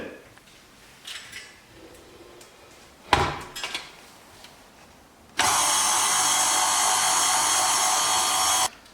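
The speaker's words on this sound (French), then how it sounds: "Nous allons commencer à pétrir la pâte. D'abord 5 minutes en première, puis ensuite 5 minutes en deuxième." A stand mixer starts kneading bread dough for butter rolls and whirs in a steady, loud electric drone for the final few seconds, after a few clunks and knocks of setting it up.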